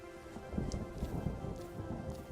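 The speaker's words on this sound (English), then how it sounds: "I hear thunder." Thunder rumbles in the Vintage Story survival game, a low, distant roll beneath steady, soft rain in a wilderness setting, with no one speaking over it.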